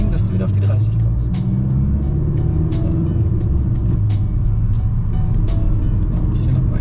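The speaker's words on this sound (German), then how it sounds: "Und jetzt aber auch beschleunigen, dass du wieder auf die 30 kommst." A car accelerating back up to 30 km/h during a German driving lesson, a loud steady engine rumble from inside the cabin, with voices talking over it.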